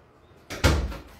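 A house door swings open to let a dog out, giving one short, fairly loud thud and rush of air that fades quickly, with no talking over it.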